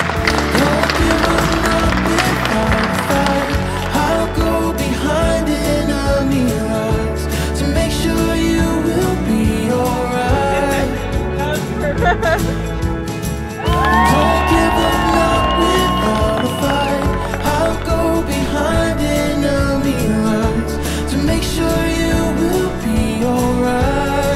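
Guests at a Mexican-Tennessee wedding applaud and cheer the newlyweds with sustained loud clapping, whoops and crowd noise, all mixed with lively music playing throughout.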